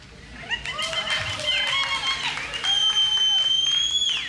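An audience at the 2007 Mr. and Miss Kentucky Entertainer of the Year pageant breaks into lively applause, with shrill whistles and cheers cutting through the steady clapping for several seconds.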